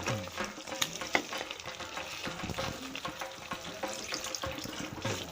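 Hot water poured into a pan of simmering Bengali chicken curry, a soft continuous splashing and bubbling sizzle with small clinks, close and faint, with no talk.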